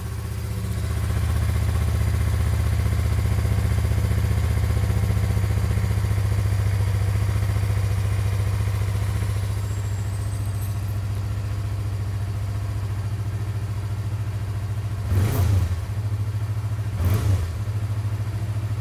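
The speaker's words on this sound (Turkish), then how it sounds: "Şimdi dışarıda kepçe çalışıyor" An excavator works outdoors with a low, steady engine rumble and faint clatter that ease slightly midway, and two short sharp knocks come near the end, with no speech.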